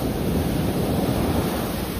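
Ocean waves breaking and rushing up the sand at Calangute beach in Goa, a steady loud roar of surf with wind buffeting the microphone throughout.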